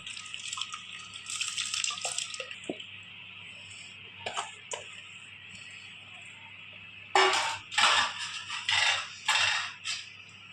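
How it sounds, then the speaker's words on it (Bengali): Rice poured into a pot of simmering milk for Bengali rice kheer, then stirred; soft scraping and clinks give way to louder bursts of pouring and stirring near the end, no talk. "চালটা ঢেলে দিলাম একটু নাড়িয়ে দিলাম"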